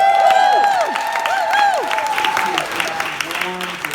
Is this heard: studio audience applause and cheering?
yes